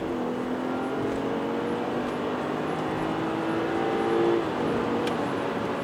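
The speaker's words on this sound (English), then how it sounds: "The car is high revving." A BMW 540i xDrive sedan accelerating on a freezing night road, its high-revving engine a steady close drone with rising tones that ease off near the end, heard from inside the cabin with no talk.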